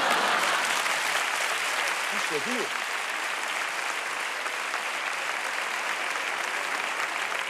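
Audience applause at a stand-up comedy show, a dense sustained wash of clapping throughout, with a brief spoken question rising above it partway through.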